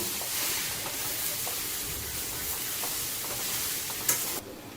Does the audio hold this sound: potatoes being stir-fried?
yes